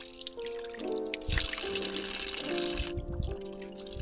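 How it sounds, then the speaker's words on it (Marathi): Cold spring water flows steadily at a Rameshwar temple on Vishalgad fort, a continuous trickling and splashing stream heard close by with no speech over it. "ते पाणी येतं आहे बघा मित्रांनो"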